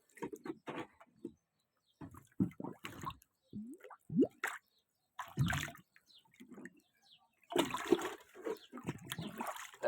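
Water runs into a second container at home, with intermittent splashing, gurgling and dripping bursts that come and go, growing into a sustained rush near the end; no talking.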